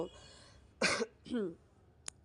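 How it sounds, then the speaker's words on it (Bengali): Two sharp, close coughs from a person with a bad cough break a quiet pause, followed by a brief click. "প্রচণ্ড কাশি হয়েছে তাই ভয়েস ওভার দিতে গিয়ে একটু কাশছি"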